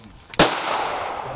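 A single rifle shot at an outdoor shooting range cracks out sharply and close, its report trailing off into a long ringing decay.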